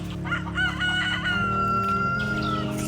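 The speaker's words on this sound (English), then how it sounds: "That's Spike, our rooster." A rooster on a homestead with Cornish Cross chickens crows loudly and close by, one long drawn-out cock-a-doodle-doo that holds steady, then rises at the end.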